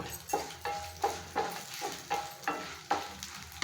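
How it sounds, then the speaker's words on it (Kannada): Chillies, chana dal, urad dal and fenugreek seeds fry in hot oil for Kannada-style patrode seasoning, a steady close sizzle broken by regular scraping stirs about every half second, with no voices. "ಸ್ವಲ್ಪ ಹುರಿಯೋಣ"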